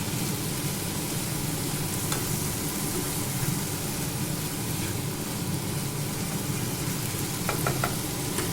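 Red amaranth leaves, lal shak, fry in a pan with a steady close sizzle, while occasional stirring adds faint scraping clicks over the continuous hiss.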